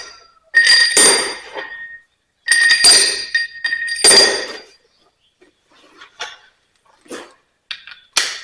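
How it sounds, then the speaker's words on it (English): Metal bolts are dropped into a Vickers V45 vane pump assembly, giving three sharp, ringing clinks close by, followed by softer scattered taps and light metallic knocks. "I'm going to drop the bolts in."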